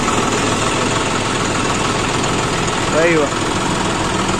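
A John Deere 5105 4x4 tractor engine idles steadily after starting, a continuous low, loud rumble that fills the whole stretch, with a brief voice rising over it near the end.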